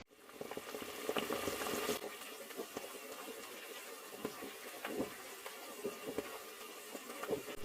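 Water seasoned with spices bubbles and simmers in a pot before rice goes in for coriander rice, a continuous soft hiss with gentle popping throughout.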